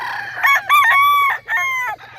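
A Hatch gray gamecock rooster crows loudly and close up in one drawn-out call that breaks into several rising and falling segments.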